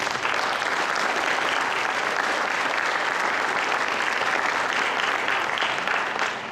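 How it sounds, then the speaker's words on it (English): A large conference audience at a tech keynote applauds, a dense, even wash of clapping that holds steady throughout and only starts to fade at the very end. "Let's give those guys a round of applause."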